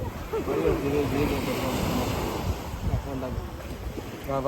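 Sea surf rolls against the shore in a steady broadband wash, mixed with wind buffeting the microphone, while people talk nearby throughout.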